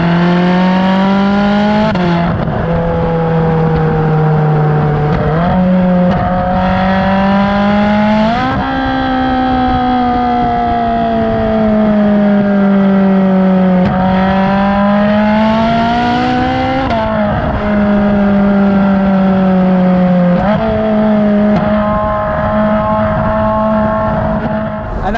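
A Ferrari 458 Spider engine revs high toward 9,000 rpm, a loud, sustained, piercing wail whose pitch climbs and drops repeatedly through several gear changes over about 25 seconds, with no talk over it.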